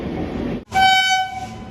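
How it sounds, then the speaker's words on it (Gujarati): The horn of the August Kranti Rajdhani Express blares loudly with a steady, sustained tone over rumbling background noise as it arrives at a station, following a brief cut to near silence. "આપણી ટ્રેન આવી ચૂકી છે"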